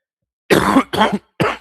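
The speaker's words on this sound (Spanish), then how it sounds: "la tos, le pido disculpas" Three rough, harsh coughs from a lecturer in a class on network programming, close and loud: a long first burst, then two shorter ones separated by brief silences.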